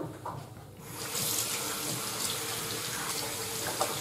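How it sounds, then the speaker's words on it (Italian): Cold tap water running into a sink during a face rinse after shaving, a steady splashing rush that strengthens after a quieter start. "mi sciacquo con acqua fredda"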